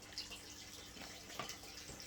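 Fish tank water poured slowly into a potted indoor plant, a soft continuous trickle with small splashes and drips, close but quiet, with no one talking.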